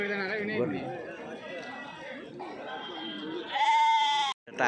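Sheep bleat loudly and close near the end, rising above a steady murmur of crowd voices at a busy sheep and goat market in Kadiri.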